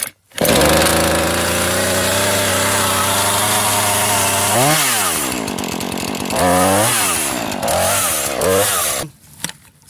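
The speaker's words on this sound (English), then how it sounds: "pull the rope to start the engine" Husqvarna 440 chainsaw starts and runs loudly up close, a steady high idle followed by several quick throttle blips that rise and fall before it cuts off at the end.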